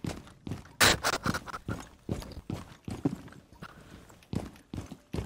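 Footsteps in Rainbow Six Siege, a rapid run of loud, close thudding steps with a brisk, uneven rhythm across a dark map, clearly heard with no talking over them.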